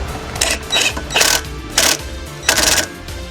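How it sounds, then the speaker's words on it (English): An impact gun starts the tie-rod nut on a 1984–87 Pontiac Fiero front end in repeated short, loud rattling bursts, about five of them, with quieter gaps between. "I'm going to start off by using the impact gun just to get it started."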